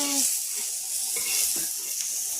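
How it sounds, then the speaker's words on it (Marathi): Green chillies and garlic sizzling in hot oil for a potato bhaji, a steady crackling hiss up close with a few brief stirring scrapes and taps, no speech. "मिरच्या टाकल्यात, लसूण टाकलाय, आता भाजून घेते."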